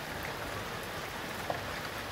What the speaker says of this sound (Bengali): বৃষ্টির ঝাপটা আসছে